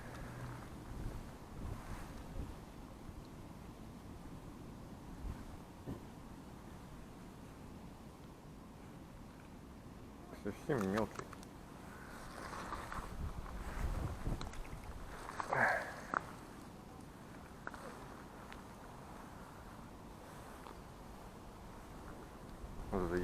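Strong gusty wind buffets the microphone outdoors during city microjig fishing, a steady low rumble that rises and falls with louder gusts, while someone speaks briefly.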